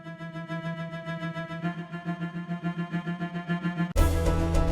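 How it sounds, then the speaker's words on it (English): Orchestral cello part in an arrangement, its sustained chords swelling up and down in a steady pulsing rhythm, each bar's last chord growing louder, before a dense, brighter full chord enters near the end. "so when the last chord of each bar comes up, it swells up and it's not just constant"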